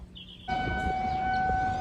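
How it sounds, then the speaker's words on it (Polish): Tornado warning sirens in Texas sound a steady, loud wail with sustained tones. They start abruptly after a quiet half-second and hold without a break. "te tornado, syreny wyją, bo idzie tornado w naszą stronę"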